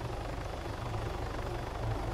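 An Orca helicopter flies in the video game Arma 3, a steady, droning rotor rumble that holds evenly throughout with no talk.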